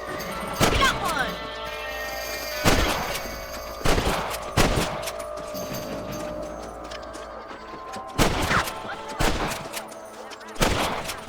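Rifle gunfire from a Western shootout in Red Dead Redemption: sharp, loud shots fired in irregular bursts of one or two, ringing out over a steady ambient bed with a brief voice between.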